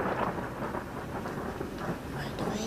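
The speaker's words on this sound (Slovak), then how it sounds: "Bude búrka. Aha, už aj prší." Thunderstorm with rain in a children's cartoon: steady rain patter with low rumbling thunder underneath, moderately quiet and continuous for the brief moment.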